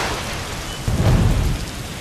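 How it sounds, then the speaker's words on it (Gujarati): Heavy monsoon rain pouring onto a waterlogged street in a harbour-area neighbourhood, a dense, loud, steady roar of rain with a brief surge, no voices. "ધોધમાર વરસાદ વરસતા બંદર જાપા વિસ્તારમાં રોડ ઉપર ગોઠણ ડૂબ પાણી ભરાયા"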